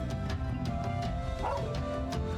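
Dog barks in the Trails of Cold Steel II video game, heard as several short bow-wow yips spaced over a steady background of game music.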